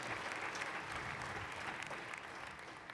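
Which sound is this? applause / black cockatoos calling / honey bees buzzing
applause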